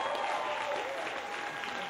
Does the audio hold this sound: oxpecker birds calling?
no